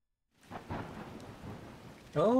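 Steady rain patters beneath a low, rolling rumble of thunder in the game Donkey Kong Bananza, moderately quiet, before a sharper burst of sound at the end.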